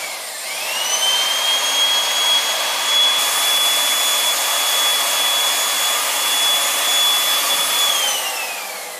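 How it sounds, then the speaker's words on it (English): A RIDGID 700 hand-held power drive runs in reverse to back a die head off a freshly cut pipe thread, giving a steady, loud, high motor whine that holds evenly for several seconds before winding down. "We run the 700 in reverse to reverse the thread off the pipe."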